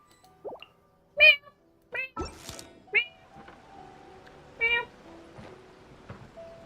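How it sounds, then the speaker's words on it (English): Cat meowing in a video game, several short, bright mews spaced irregularly, mixed with soft plopping game sounds and quiet background tones. "Oh, that is the most precious kitty I ever seen."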